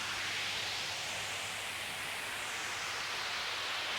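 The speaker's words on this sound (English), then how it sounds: "Like you end with some white noise." Steady hissing white noise ending a punk rock song fills the clip evenly, a broad static wash with a faint low hum beneath, unchanging from start to finish.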